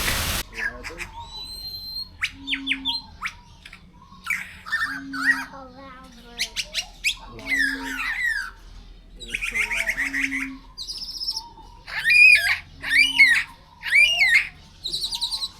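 An Australian lyrebird calls and mimics other sounds outdoors, producing a varied series of chirps, whistles, squawks and trills, some repeated low hooting notes, loud and close.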